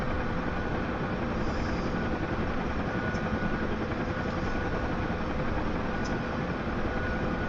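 A Huey helicopter rolling takeoff, heard as a loud, steady engine drone and rotor rumble from close inside the aircraft, continuous throughout with no voices.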